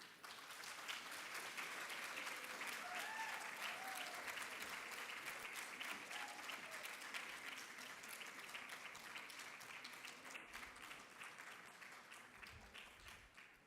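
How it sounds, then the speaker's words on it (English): Sustained audience applause at a school awards ceremony, the Blue Ribbon Awards at GEMS Legacy School, steady and dense throughout, fading slightly toward the end, with no talk over it. "Ladies and gentlemen, begin applauding as I call the first awardee"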